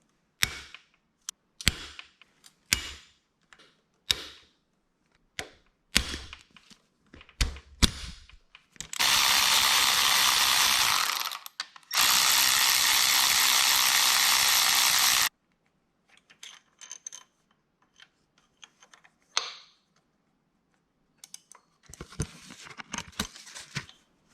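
A ratchet wrench loosens the cylinder head bolts of a Honda XL250 engine, making sharp clicking bursts. Two long continuous whirring runs in the middle sound like a power ratchet, and more scattered clicks follow.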